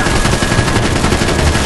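Rapid automatic gunfire from a shootout in the video game Max Payne 3 rattles continuously and loudly, dense bursts overlapping for the full short stretch.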